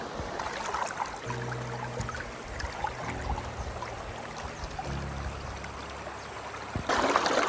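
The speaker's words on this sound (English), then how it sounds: "The river is pushing me down. The current, there's enough current to push my fat ass down this river." River current flowing in Vietnam's Ha Giang region, a steady broadband rush of moving water that runs continuously and fairly close, with a low rumble joining in at intervals and no talking.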